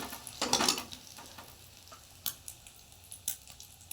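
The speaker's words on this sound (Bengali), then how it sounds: "গরম গরম ডবল ডিমের অমলেট পেঁয়াজ দিইনি, নুন দিয়ে আর হলুদ দিয়ে ভাজছি" A double-egg omelette seasoned with salt and turmeric fries in a pan with soft, quiet sizzling, broken by a few scraping stirs and sharp utensil clinks against the pan.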